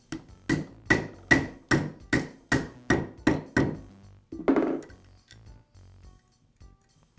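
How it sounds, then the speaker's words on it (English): A socket tapped with a hammer drives a bearing onto the armature shaft of a DeWALT circular saw, a steady run of about ten crisp metallic knocks, then one heavier blow and a few faint clinks. "Place the socket on the race, and then tap the bearing into place."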